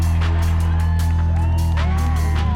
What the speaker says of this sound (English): We've never seen people line up and cheer our trucks as they come in from the line